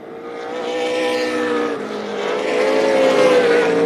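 Race car accelerating hard out of turn 4 at Tucson Speedway, a loud, steady engine drone that climbs in pitch through the gears, close and continuous with no talk.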